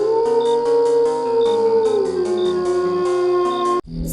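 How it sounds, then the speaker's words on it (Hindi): A long, wavering dog howl rises and falls against eerie background music in a Hindi horror story set in a dark lane, sustained for several seconds before cutting off abruptly. "दूर से किसी कुत्ते की रोने की आवाज आ रही है।"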